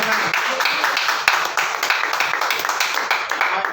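A church congregation claps together, close and loud, in a quick, fairly even rhythm over a few seconds.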